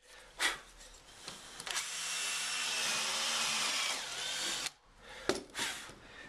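A power drill whirs steadily as it bores a clearance hole into wood for a few seconds, with short bursts of drilling before and after.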